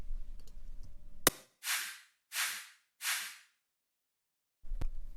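A layered snare drum and clap in a breakbeat-style drum production, heard as three sharp, bright hits in an even rhythm, each with a short hissy tail, set off by gaps of silence and other sounds.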